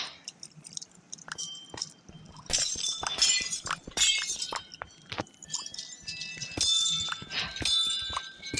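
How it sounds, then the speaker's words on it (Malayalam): Glowstone blocks break in the Minecraft video game, heard as a series of sharp glassy shattering cracks and clinks in irregular bursts over a faint, low background. "ഗ്ലോ സ്റ്റോൺ കഴിച്ചു പൊട്ടിക്കും."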